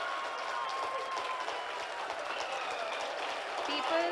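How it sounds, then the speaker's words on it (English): A conference audience applauds steadily and fairly faintly, the clapping sounding distant and continuous for about four seconds, with a thin tonal hum running underneath. "People are applauding."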